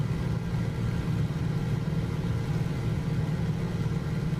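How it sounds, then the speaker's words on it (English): A steady, loud droning aircraft engine heard from inside the cockpit in Microsoft Flight Simulator, holding a constant low hum with no change in pitch throughout. "This aircraft is really loud."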